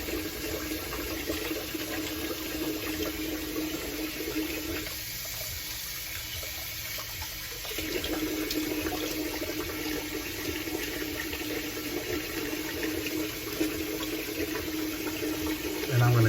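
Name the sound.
hot water running from a tap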